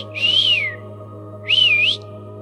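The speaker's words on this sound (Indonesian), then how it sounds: "berandal tadi pun bersiul, seolah tengah memanggil" A man whistles twice to call out to someone, each a rising-and-falling catcall-style whistle lasting under a second, clear and close, separated by a short gap over a low steady background hum.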